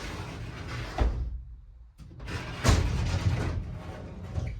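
A homemade wooden pocket door slides along its track, giving a soft rolling rumble, a quiet pause, then another smooth rolling glide with light knocks, close by and without talking.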